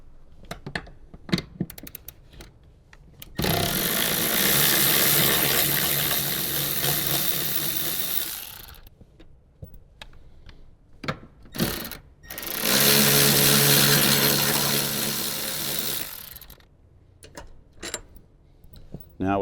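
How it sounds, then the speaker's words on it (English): Power tool, likely an impact driver, removing seat bolts in a Toyota Tundra cab: two long loud whirring bursts of several seconds each, separated by quieter clicks and handling noises, with a little talk. "now we'll remove our other 2 seat bolts."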